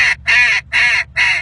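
A duck call sounds four loud, nasal quacks in a descending staircase cadence, each note sustained and cleanly separated by short gaps, close and alone.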